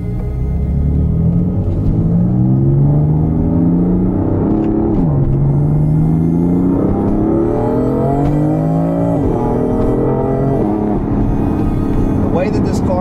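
BMW F80 M3 engine accelerating hard, loud rising revs pulling through several gears with distinct shift dips, heard from close by with someone talking over it.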